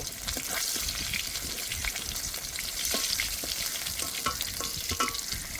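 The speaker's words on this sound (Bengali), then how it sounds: "মাছগুলো ভালো করে ভেজে নিয়েছি, এখন তুলে নেব।" Pieces of katla fish fry in hot oil in a pan, a dense crackling sizzle with scattered pops and light stirring clicks, close and continuous with no talking.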